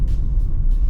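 A 2024 Peugeot 208 with a 1.6 engine and automatic gearbox runs on the road, a steady, loud low engine drone inside the cabin with faint rushing road noise.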